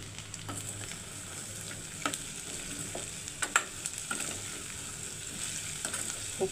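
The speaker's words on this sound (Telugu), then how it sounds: "ఉప్పు వేసేసి కలిపేస్తాను." Salted, steamed chickpeas are tossed and stirred in a pan, a close scraping and rustling with soft ticks and gentle sizzling carrying on steadily without any voices.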